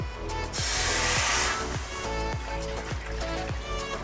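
Water pours into a glass while plum sharbat is being made, giving a brief splashing hiss over steady rhythmic background music.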